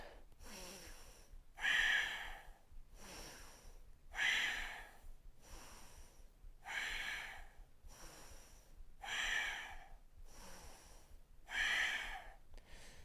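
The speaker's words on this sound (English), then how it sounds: "Big, deep breaths." Slow, deep breathing during a live yoga flow class: a regular series of audible inhales and exhales, each a breathy rush lasting about a second, repeating roughly every two seconds, close and fairly quiet.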